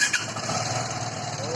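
A Vespa Sprint 150 scooter fitted with a new exhaust idles close by, a steady buzzing engine note with a slight pulsing rhythm, briefly under a voice at the start.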